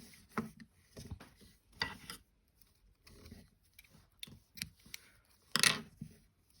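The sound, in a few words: scissors cutting off crochet yarn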